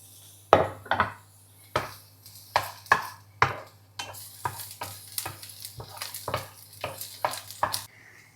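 Sliced garlic slivers sautéing in a pan of oil for a prawn and water spinach dish, with a faint sizzle under repeated near scrapes and clinks of a spoon stirring against the pan, no talking.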